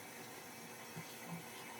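A household toilet is flushed, a faint, steady rush of running water throughout the short moment with a couple of soft gurgles, heard alone in a quiet bathroom.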